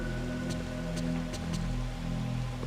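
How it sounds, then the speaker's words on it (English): Steady rain patters through a scene in the horror game Fatal Frame III: The Tormented, with sharp drops striking a surface over a constant low hum and no voices. "It's raining again."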